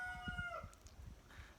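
A rooster crows faintly in the distance, one short drawn-out call fading out within the first second, over quiet rumbling background noise.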